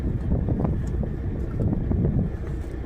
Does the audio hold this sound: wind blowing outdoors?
yes